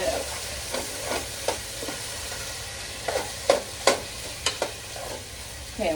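Elk stew with root vegetables and celery stirred in a pot, a spoon scraping and knocking in a loose run of sharp strokes over a low simmering bubble, close and fairly clear.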